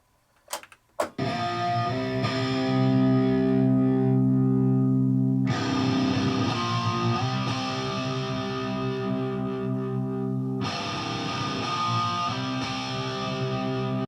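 Electric guitar track with EQ played solo through an analog mixer: sustained, distorted chords ring out loud and steady, with a few plucked notes at the start and chord changes at regular intervals, no talking.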